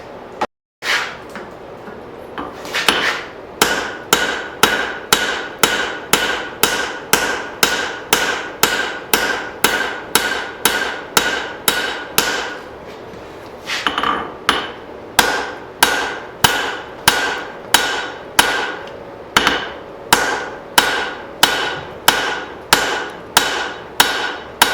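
A hammer strikes a hot hatchet head on an anvil while the edge is forged, in a long, steady series of sharp metallic blows with one brief pause partway through, loud and close.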